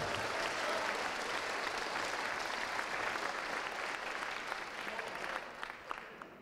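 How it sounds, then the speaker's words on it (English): Sustained applause from a keynote audience at SteamCon 2018 fills the room, a dense wash of clapping that tapers slightly toward the end. "give John a clap, come on"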